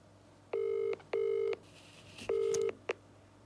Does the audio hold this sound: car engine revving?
no